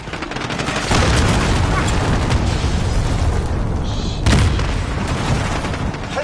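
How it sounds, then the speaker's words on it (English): Cruise missile strike detonations and dense gunfire boom continuously in a Call of Duty match, a loud, sustained barrage with heavier blasts near the start and again later. "Allied cruise missile away."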